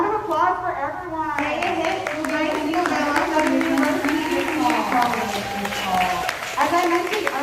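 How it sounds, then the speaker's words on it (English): Round of applause for students at a senior signing day, clapping running beneath a voice speaking over it throughout. "another round of applause for everyone."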